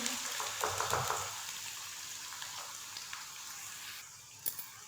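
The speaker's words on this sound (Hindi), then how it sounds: "प्याज़ों को कर लेना है आप लोगों ने ब्राउन" Chopped onions fry in a cup of oil in a kadai, giving a steady bright sizzle with a few stirring clatters early on and a sharp tap near the end, heard up close with no talk.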